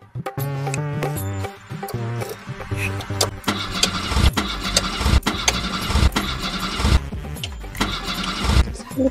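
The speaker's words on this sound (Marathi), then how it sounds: "यार चालू कर गाडी" A car engine cranks and catches amid a jumble of door thuds and knocks, settling into a rough running rumble, with brief muffled voices.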